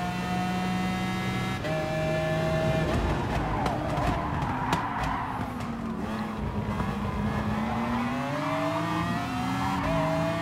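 A McLaren F1 Gr.3 race car engine in Gran Turismo Sport at the Red Bull Ring whines steadily, shifting pitch as it accelerates and changes gear, with brief clatter and tire noise mid-way.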